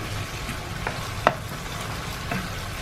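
Hyderabadi-style liver masala frying over a medium flame while being stirred, a constant soft sizzle with a few scraping strokes and one sharp clink of the spoon against the pan.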